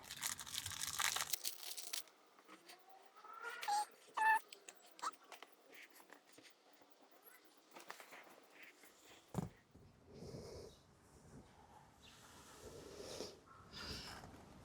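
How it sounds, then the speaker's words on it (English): Scissors or a blade cut and crinkle a backing piece of material for repairing a torn leather car seat, a run of close, dry snipping, rustling and crunching handling noises heard on their own with no talk. "So the first thing I'm going to do is cut a backing to go in here."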